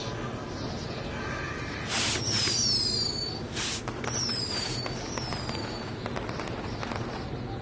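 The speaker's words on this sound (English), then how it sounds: "we'll get to see some cool fireworks" Fireworks going off with whistling rising shots and crackling bursts, dense and continuous at moderate distance, with no clear voices.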